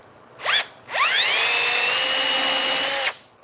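A battery cordless drill drives a screw into wood. A short whirring blip comes first, then a longer rising whine that holds steady for about two seconds and cuts off, loud and close.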